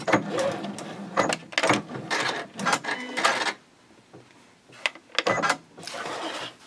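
A sewing machine backstitches a seam on a fold-flat fabric project bag for knitting and crochet, running in short stitching bursts with a brief stop partway through.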